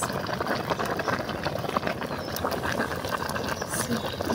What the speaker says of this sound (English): You see, it's boiling